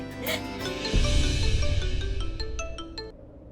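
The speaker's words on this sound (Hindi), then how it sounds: "फोन तो लग गया भाभी, रिंग जा रही है, कोई उठा नहीं रहा है।" A phone line rings on the other end of a call, with repeated bright electronic ringback tones under a steady musical background, loud and continuous.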